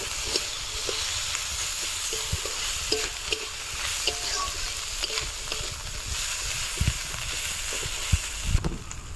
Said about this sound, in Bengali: আর মাছের ঝালের জন্য পেঁয়াজ, লঙ্কা, মটরশুঁটি, একটু আদা বাটা দিয়ে মাছ কষিয়ে নিচ্ছে।